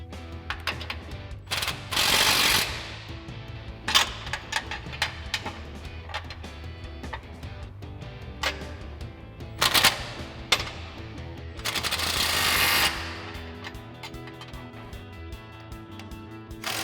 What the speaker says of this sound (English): 13/16 socket on our impact and a 7/8 wrench to hold it in place